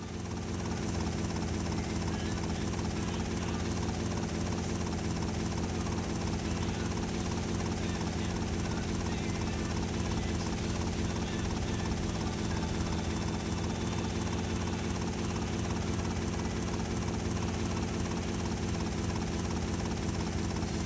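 Helicopter in GTA Vice City Stories on PS2, a steady whirring rotor and engine drone holding at even loudness throughout, with no gaps or pauses.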